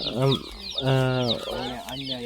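Chickens cluck and squawk in a poultry shed, loud close calls in three rising, drawn-out bursts one after another, with more birds murmuring in the background.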